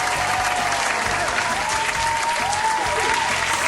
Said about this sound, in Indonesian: Kasih tepuk tangannya dong.